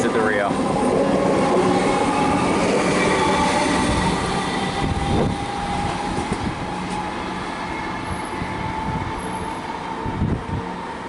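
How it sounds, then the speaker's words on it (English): A Comeng electric train pulls out of Gardenvale station in Melbourne with a steady rolling rumble, brief squeals and clicking wheels over about eleven seconds, close by and gradually easing, with a voice speaking faintly at times. "And we've got this Comenge departing, 594M is leading."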